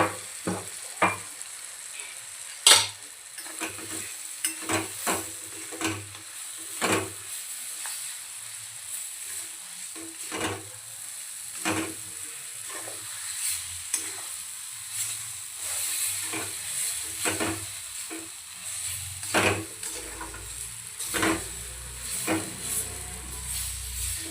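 Chana dal is tipped into hot oil in a frying pan and stirred, giving a steady sizzle and hiss broken by repeated scraping and clinking strokes, close and clear with no talk.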